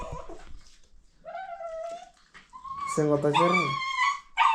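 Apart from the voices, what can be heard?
dog whimpering and barking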